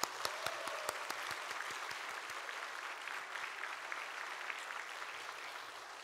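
A church congregation applauds the choir after a worship service hymn, a dense steady wash of many hands with a few sharp nearby claps at the start, sustained throughout without speech.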